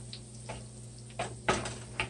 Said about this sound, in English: you're going to add another 2 tablespoons of butter and melt that down